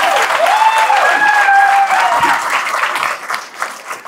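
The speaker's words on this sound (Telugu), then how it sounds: "సరే గట్టిగా బిగ్ రౌండ్ అప్లాజ్ వాళ్ళిద్దరు." Crowd at a gathering giving a big round of applause for Srinivas and Anjaneyulu, loud dense clapping with a faint tonal hum underneath, tapering off toward the end.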